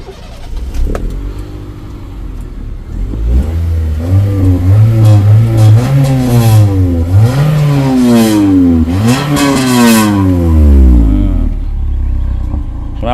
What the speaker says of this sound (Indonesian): Knalpotnya halus, tapi kalau kamu geber dia bisa sedikit sering gitu, kering.